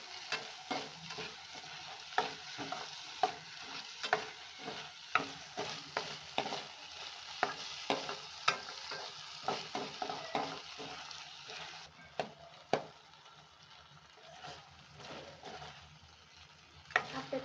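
Tomatoes added to browned onions are stirred in a sizzling pan for pasta, with a steady frying hiss and rhythmic scraping spoon strokes roughly every second, close by.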